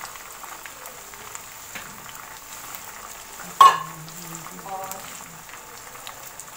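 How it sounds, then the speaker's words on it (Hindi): Tomatoes drop into a pan of golden-browned onions for a restaurant-style chicken biryani, with a sharp splash at the midpoint followed by a steady, moderate sizzle and crackle of frying. "प्याज ब्राउन हो गई है, अब मैं इसमें डाल दूँगी ये टमाटर"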